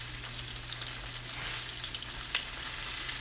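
Mackerel frying in a frying pan gives off a steady, close hiss of sizzling oil that holds throughout, with one brief spatter near the end.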